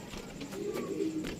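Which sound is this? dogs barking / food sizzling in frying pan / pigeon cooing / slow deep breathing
pigeon cooing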